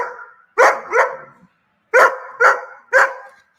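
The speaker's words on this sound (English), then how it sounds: "could you really hear that dog barking the distance from the house to Linda Lane" A dog barks in five sharp, loud barks, two close together, a pause, then three more in quick succession, with no other sound around them.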